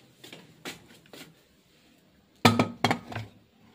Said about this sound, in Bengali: কুকারটা মাজা হয়ে গেছে, কুকারটা এখন রেখে দিই।